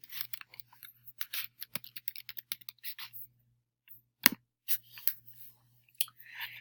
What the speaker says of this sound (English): all you would do is just type in their name.